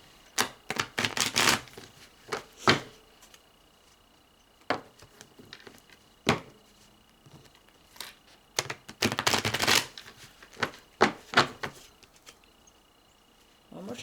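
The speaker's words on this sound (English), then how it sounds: "Shuffle the cards up for you and we'll get to you." Tarot cards are shuffled in bursts, quick crisp riffles and taps clustered into several short runs separated by near-silent pauses, close and dry.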